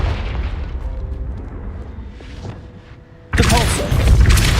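A Confringo fire spell explodes in the video game Hogwarts Legacy. Quiet game ambience gives way to a sudden, loud, close blast that booms and crackles to the end.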